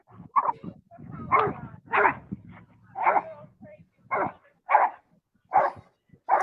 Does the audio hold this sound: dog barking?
yes